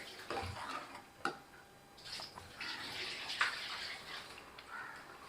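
Chicken curry with masala, Madurai style, coming to a boil in a pot on the stove, giving soft, quiet bubbling with a few light clinks scattered through it.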